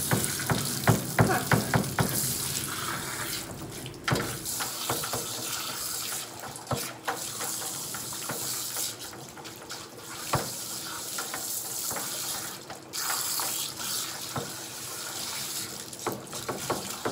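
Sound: water running during a terrier Yorkie mix dog's bath

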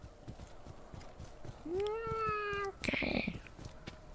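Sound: cat meowing in the video game Desolate

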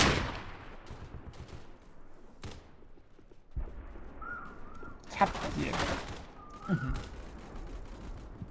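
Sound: gunfire in a video game (Scorched Earth)

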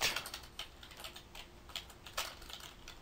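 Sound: typing on a computer keyboard

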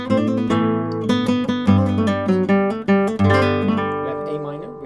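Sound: flamenco guitar tangos falseta with A G F E cadence

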